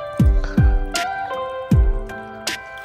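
Tap water runs into bottles, making a close series of sharp, ringing plops and drips with a few louder splashes spaced irregularly across the clip.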